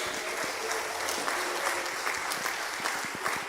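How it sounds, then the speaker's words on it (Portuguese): Church congregation clapping in praise during a Portuguese-language service, a steady, moderately soft patter of many hands with occasional sharper claps, continuous throughout. "Glorifica Jesus com palmas, com glória a Deus."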